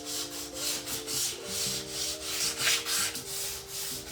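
Wood being sanded by hand with 120 grit sandpaper under light pressure while building a desk: close, rhythmic back-and-forth rasping strokes, about a dozen in quick succession, over a low steady hum.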